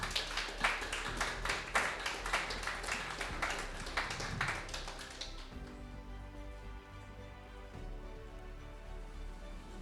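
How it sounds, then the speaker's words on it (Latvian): Audience applause at the 2023 "Saules Laivas" adult non-formal education award ceremony: dense clapping for about five seconds, then fading into quieter room sound. "Sagaidām ar aplausiem."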